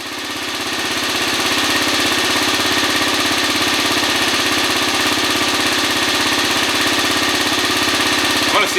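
A 2013 Kawasaki KFX 50 ATV engine idles loud and close, a steady rapid small-engine putter that holds constant without any talk.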